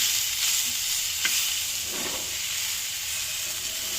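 Radish turned pink sizzles in a frying pan, a constant close hiss with a faint stir scrape midway.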